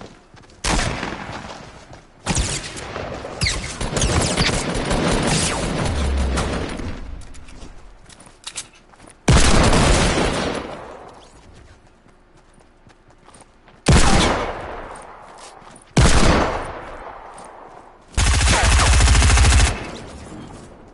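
Hand cannon fire in a video game comes in several loud, separate bursts of rapid shots, with quieter pauses between them.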